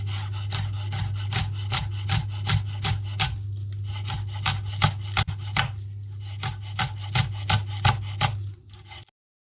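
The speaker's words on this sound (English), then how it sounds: "bunch them up, hold them together and start chopping" Rapid rhythmic knife chops through bunched green onions on a cutting board, a quick steady series of sharp taps with a brief pause midway, over a low background hum.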